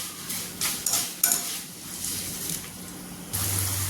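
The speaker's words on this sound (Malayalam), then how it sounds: "നമുക്കിത് വറുത്ത് കോരി മാറ്റാം" Fried jackfruit rags, Kerala style, scooped out of hot oil: a soft continuous sizzle with several clinks and scrapes of a metal scoop against the pan, close and moderately loud.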